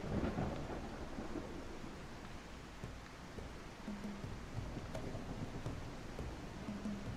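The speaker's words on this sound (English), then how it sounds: "at least they did the rain right" Rain and thunder from the survival video game Tribe Primitive Builder, a steady hiss of rainfall with low rumbling thunder swelling at the start, fairly quiet and continuous throughout.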